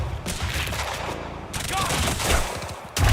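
Dense, continuous gunfire and explosions fill a Quantum Break firefight, a loud rumbling barrage with heavy low-end booms and no clear gaps, ending in a sudden louder burst.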